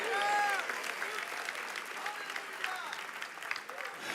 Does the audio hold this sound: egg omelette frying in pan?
no